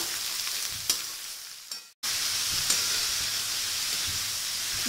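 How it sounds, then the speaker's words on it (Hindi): Sliced pointed gourd (sarputiya) stir-fried on high flame gives a loud, continuous sizzle with a few stirring knocks. The sound cuts out for a moment near the middle, then the hiss resumes at full strength. "इसे हम हाई फ्लेम पर अच्छे से मिक्स करते हुए 3 से 4 मिनट तक अच्छे से भून लेंगे।"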